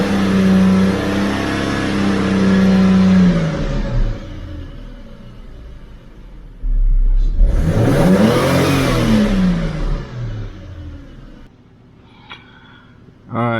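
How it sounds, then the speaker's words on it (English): A 2010 Ford Falcon FG with a lack-of-power fault revs up in two bursts, engine pitch climbing then falling, with a steady idle rumble between them and a brief noise at the end. "Let's rev the car up and see what it does."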